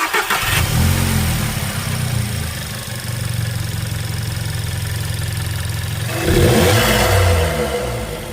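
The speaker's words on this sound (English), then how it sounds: "this is now what it sounds like after they've been installed." A VW Jetta MK5 with a 1.4 TSI engine, fitted with performance coil packs and NGK iridium spark plugs, cranks and fires up, settles into a steady close idle, then blips louder near the end.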